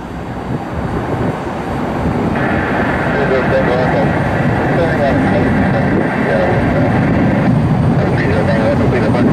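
A Frontier airliner on the runway at Cleveland Hopkins Airport, taking off for Orlando, with a loud, steady jet engine roar that swells and holds throughout while people talk over it.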